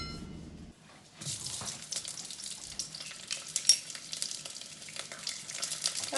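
Onions frying in hot oil in a home kitchen pan: after a brief quiet start, a dense, crackling sizzle rises and holds steadily, close and fairly loud, with sharper pops scattered through it.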